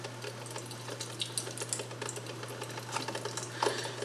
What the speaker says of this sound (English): You can see it's already putting water into the pot